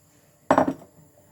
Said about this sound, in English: We're going to add our egg.